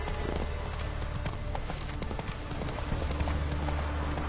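Galloping hooves of Roach, Geralt's horse in The Witcher video game, beat in a steady clip-clop rhythm under a dense, busy game soundscape with faint voice fragments.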